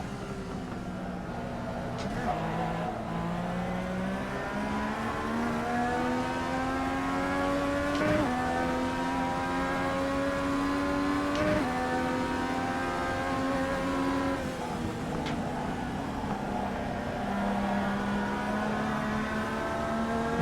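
Race car engines in the iRacing sim game rev and climb through gears in long rising sweeps with sharp shift breaks, a steady in-car drone heard close up.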